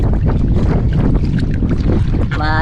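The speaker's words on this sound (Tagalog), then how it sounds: "Ay, lakas ng hangin." Strong sea wind buffets the microphone aboard a fishing boat, a loud, constant rushing roar with gusty surges and a brief creak near the end, and no clear voices.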